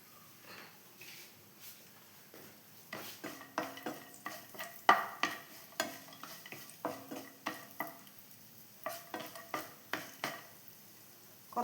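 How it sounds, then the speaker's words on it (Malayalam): Almonds and raisins fry in ghee in a pan and are stirred, with soft sizzling broken by repeated close scraping and clinking strokes of a spoon against the metal, quiet overall. "ആ നെയ്യിലിട്ടൊന്ന് വറുത്തെടുക്കാം നമുക്ക്."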